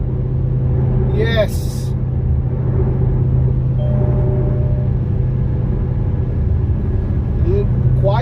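A Dodge Charger Hellcat with a GtHaus American Roar Racing exhaust rumbles at a low steady drone from inside the cabin, the sound constant and muffled, with a brief word spoken over it.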